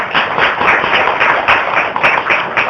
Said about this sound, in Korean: 박수 한번 쳐올릴까요?